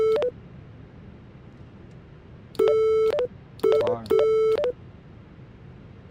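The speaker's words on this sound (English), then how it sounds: "Why is it beeping?" Cockpit warning beeps in a Fenix A320 in Microsoft Flight Simulator 2024, loud, clean electronic tones in short bursts: one brief beep, a pause, then a sustained beep followed by two more in quick succession.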